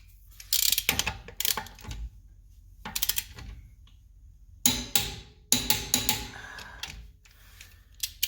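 Ryobi P261K impact wrench tightening a nut, several sharp rattling hammer bursts of about a second each separated by pauses, close and loud, with no talking.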